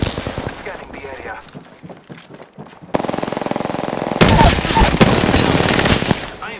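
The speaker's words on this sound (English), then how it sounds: "I am taking fire." Video game combat fire, rapid machine-gun bursts that start sparse and grow into loud continuous volleys, with a radio-style voice calling out status over the shooting.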